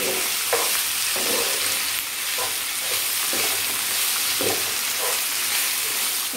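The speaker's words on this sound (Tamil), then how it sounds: "இப்போ இத வந்து கலக்கி விட்டுடுங்க." Chicken uppu kari, a simple Tamil-style salted chicken curry, stirred in a sizzling pan, with steady frying hiss and soft periodic scraping strokes about once a second, close and without voices.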